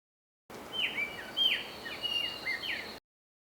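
An oriole sings a series of clear, whistled phrases, repeated several times in quick succession over a soft, steady background hiss, at the Charles River.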